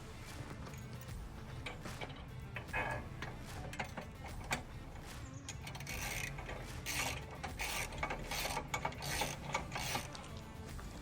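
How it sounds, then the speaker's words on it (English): Ratcheting clicks as bolts are screwed in to mount a RucRak on a Jeep Wrangler, close rapid bursts of mechanical ticking that grow busier toward the end. "So I'm going to be holding this up while the wifey is screwing those bolts through."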